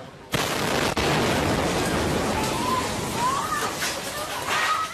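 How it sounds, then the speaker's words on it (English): A bomb blast at a Bangkok shrine hits as one sudden sharp boom, then a sustained roar of noise and faint rising wails that linger behind it. "The sudden blast,"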